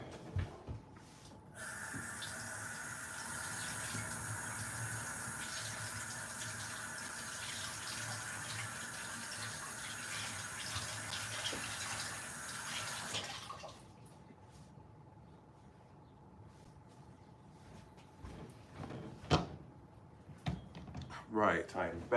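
Tomatoes are washed under running tap water, a loud steady hiss of flowing water that stops abruptly partway, followed by a quieter room with faint handling clicks and a few louder knocks near the end.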